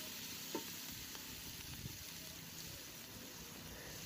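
Onions sizzle and fry steadily in a pan while being stirred, a soft continuous hiss with occasional light scrapes of the spoon.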